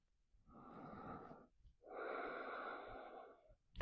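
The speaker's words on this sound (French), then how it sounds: "Encore une profonde respiration ici." Deep, slow breaths during a floor-based hatha yoga session, two long drawn-out breaths with a short pause between them, close and fairly soft, with no talking.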